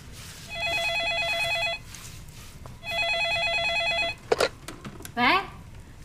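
A telephone rings in two long trilling bursts separated by a short pause, fairly close and loud, followed by brief clatter and a voice.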